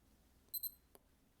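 A Skmei 2100 digital watch gives two quick, high electronic beeps close by while its button is held, followed by a soft click, over a quiet room.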